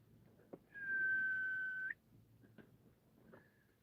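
A person gives one long, steady whistle at moderate loudness, held for about a second with a slight rise at the end, to call a cat outdoors in the evening. A few faint clicks and a brief soft tone follow.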